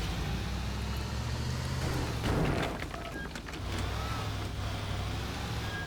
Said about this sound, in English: Now I can drive off of here.